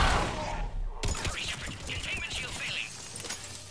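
Gunfire in Mass Effect 3, a rapid string of sharp shots and impacts mixed with game effects, with a person talking over the shooting.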